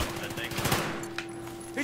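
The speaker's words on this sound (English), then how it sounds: "I just spawned on him and started firing." Rapid automatic gunfire in the video game Battlefield 3, a dense burst of shots in the first second followed by a few scattered reports, loud and close over a game sound backdrop.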